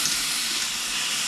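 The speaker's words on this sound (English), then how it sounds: "Sizzle, sizzle, sizzle." Meat sizzles on a hot grill, a steady, close hiss with no break for the whole brief moment.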